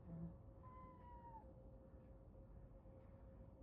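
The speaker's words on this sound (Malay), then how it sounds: "Nakal kucing ni." A house cat meowing faintly, one drawn-out plaintive call early on over a steady low background hum.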